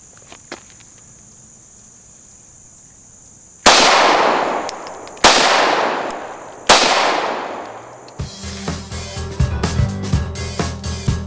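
Three sharp, loud gunshots from a Walther PPS 9mm pistol firing 115 grain ball ammunition, spaced about a second and a half apart with ringing decays, after a quiet outdoor stretch with faint insects, followed by a burst of rapid clanging impacts.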